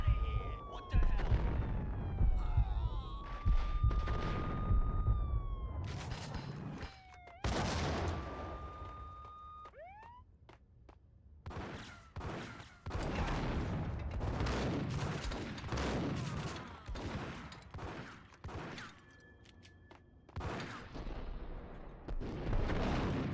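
Loud bursts of gunfire and explosions from the shooter game Max Payne, with repeated volleys of shots near and then farther away, mixed with game sound effects and talking voices.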